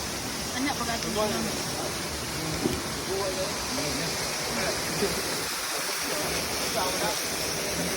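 Steady rushing river water fills the scene with a constant broadband wash, while a voice talks faintly underneath.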